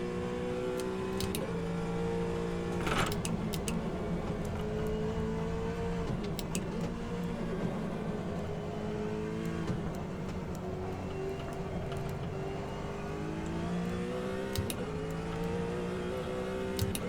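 A McLaren Senna engine in the racing game Automobilista 2 drones steadily, its pitch rising and falling through gear changes, with occasional clicks and no talking.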